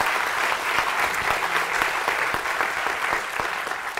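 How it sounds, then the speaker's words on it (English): An audience at a Penn Alumni Weekend event in 2010 gives a big round of applause, a steady, dense clapping from a full room that holds at an even level from start to finish. "I just ask you all to give him a big round of applause."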